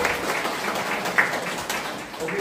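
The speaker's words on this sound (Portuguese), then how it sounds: "Uma salva de palmas para o diácono," A church congregation claps for a deacon: brief, fairly faint applause with a few sharper claps standing out, blended with room murmur.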